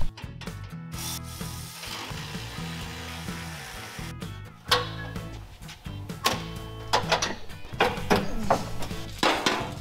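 A hand ratchet works on the bolts of a bull bar on a Toyota FJ, giving close, quick bursts of clicking that come in irregular spurts, with louder, busier cranking toward the end.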